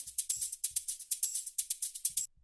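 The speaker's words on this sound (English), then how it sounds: "a top loop sample, so it sounds like this." A crisp, high-pitched tech house percussion top loop of hats and shakers ticking in a steady pattern, with a few soft low thumps, ending abruptly.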